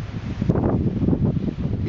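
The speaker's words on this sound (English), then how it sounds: "Sorry about the wind." Strong wind buffets a microphone on an Isle of Man beach during metal detecting, a loud, continuous low rumble with gusty surges and faint rustling throughout, no talk heard.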